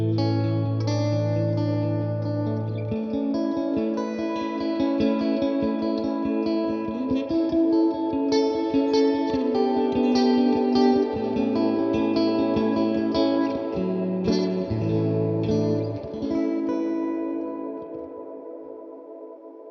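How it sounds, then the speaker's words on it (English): An electric guitar played through a Tone King Imperial amp with dwell and reverb turned all the way up, sustained chords and notes washing into dense, echoing reverb tails, loud and continuous, with no voice. "Or you turn the dwell and reverb all the way up, and you can"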